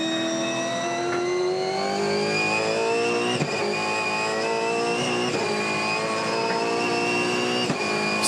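V8 Supercars racing at Sydney Motorsport Park, a close pack of cars roaring past with steady, loud engine drone and rising pitch as they accelerate, several overlapping engines blending together with no talk.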